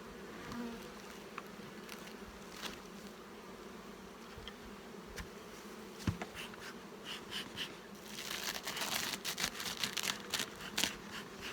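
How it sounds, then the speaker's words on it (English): A steady insect buzz of many honey bees in a wintered nucleus hive being opened, with a sharp tick midway and the droning growing busier and louder toward the end. "Lots of bees on top."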